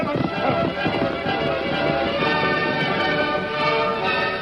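Horses galloping away at a fast pace, a dense, continuous rhythm of hoofbeats mixed with busy background sound and some voices throughout.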